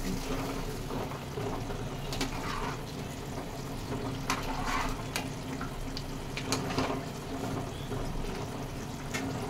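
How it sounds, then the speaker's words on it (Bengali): Fish goes into a boiling raw mango and rohu curry broth on the stove, making a soft continuous bubbling sizzle with scattered small pops and splashes at moderate, even loudness. "ঝোল ফুটে গিয়েছে, এবার আমি মাছ দিয়ে দেবো।"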